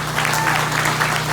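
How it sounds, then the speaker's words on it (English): Audience applause at the Brooklyn Take Steps charity walk for IBD, a steady wash of many hands clapping outdoors, fairly close and continuous, with a low steady hum underneath. "Now I want to hear a huge round of applause for these folks."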